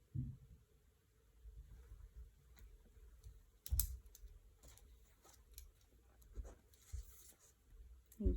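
Pen strokes scratch across paper close by while runes on a Tabula Mortem spirit board are checked one by one and the results are noted, with short bursts of writing broken by soft clicks and taps.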